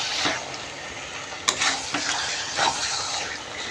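Chicken meat being sautéed and stirred in a pan, giving a steady, bright hiss with a few sharp scrapes and clinks from the stirring, close and moderately loud.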